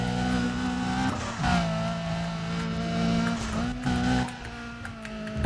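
A race car with racing parts fitted roars through Need for Speed: Undercover, its engine note rising and falling through gear shifts, with steady loud revving and occasional tire noise, no talk over it.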